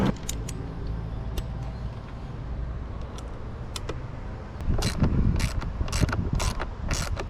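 Ratchet wrench working rear fender bolts on a 2023 Kawasaki Ninja 650, close mechanical clicking and ratcheting bursts that grow louder and more frequent toward the end, over a steady background hum.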